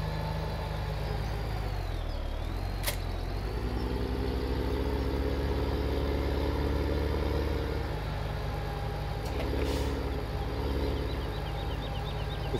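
A tractor in Farming Simulator 17 drives steadily, its low engine drone continuous and even throughout, with no talking over it.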